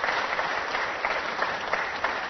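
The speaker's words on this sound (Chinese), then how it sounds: "我们掌声欢迎。" Studio audience applauding to welcome a guest on a lecture show, steady dense clapping from a crowd that fills the whole stretch at even loudness.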